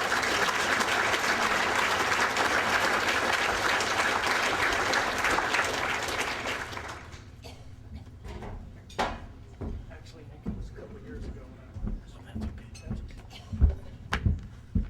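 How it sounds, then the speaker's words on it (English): Applause from an awards ceremony audience honoring a service award winner runs dense and steady for about seven seconds, then cuts off, leaving scattered knocks and rustles in a quieter room. "So give Bob a round of applause."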